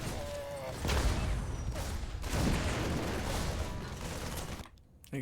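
Bombs rain down on Marines in a StarCraft battle, a dense rumbling barrage of overlapping blasts and mechanical game effects that holds steady and loud before cutting off near the end.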